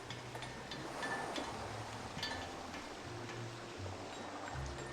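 Rushing water pours steadily at a low, constant level, like a video game waterfall heard from nearby, with soft low tones and occasional light clicks.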